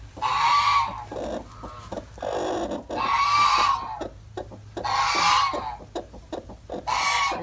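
Hens cluck in repeated bursts in a backyard garden flock, several loud, close calls separated by short pauses, with quieter clucking in between.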